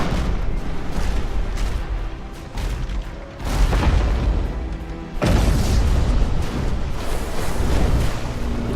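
Ships blowing apart in the Abandon Ship tactical combat game: a loud, dense run of booming blasts and crackling bursts, with heavy surges near 3.5 and 5.3 seconds and no talk.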